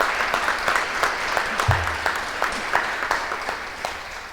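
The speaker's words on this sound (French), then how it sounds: "je voudrais qu'on donne une bonne main d'applaudissement à Suzanne et Michel qui nous ont accompagnés en" Congregation applause at an Easter Vigil Mass in a church, steady clapping from many hands for the musicians, moderately loud and reverberant, with a low thump partway through.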